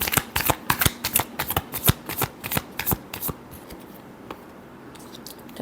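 Tarot cards being shuffled by hand, a close run of quick crisp riffling flicks in bursts that slow and fade toward the end, with no talking.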